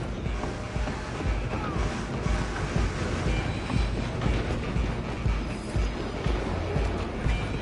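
A train in the Red Dead Redemption 2 video game rumbles along the rails with a low, continuous clatter and rolling roar, heavy and close, mixed with wind-like rushing noise and no talk.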